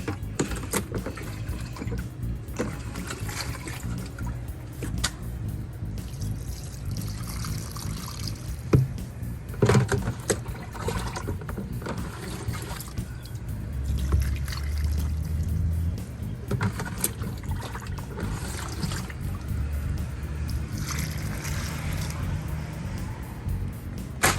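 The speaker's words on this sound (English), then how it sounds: "Okay, so I'm gonna give it some more water." Water pours and trickles steadily onto squash transplants in a home garden, a continuous close splashing wash with occasional louder splatters and no talk.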